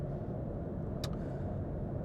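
Inside a BMW i4 electric car cruising on a highway at about 105 km/h, a steady low tyre and road rumble continues throughout, broken once by a brief sharp click.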